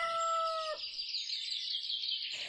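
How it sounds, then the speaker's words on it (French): A farm rooster perched on a car crows once, loud and close, with a clear rising-and-falling call that gives way to a steady hiss of background noise. "C'est le coq de la ferme qui est perché sur la voiture."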